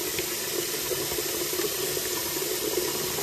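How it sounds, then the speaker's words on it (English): A bathroom water tap runs steadily into a sink, a continuous broadband splashing rush that stays even and close throughout with no voices. "Let's turn my water on."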